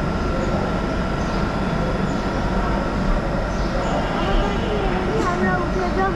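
A metro train pulls into the station with a continuous, loud rumble and rail noise, while people talk nearby over the din.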